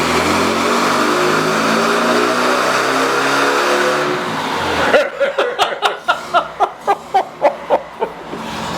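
A VW Beetle air-cooled engine screams at high revs on a dyno with no belt driving the generator or cooling fan, then the throttle drops and it idles in a loose, rhythmic series of loud pops and chuffs as it settles.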